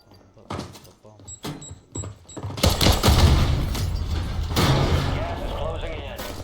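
Gunfire in Call of Duty Warzone during a starter-pistol-only match, with a few single pistol shots early on followed by a sustained burst of loud, dense firing and game noise while a player talks over it.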